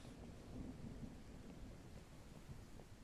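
Rain and rolling thunder in a mining video game with big machines, a dense steady wash of rainfall with low rumbling throughout, no voices.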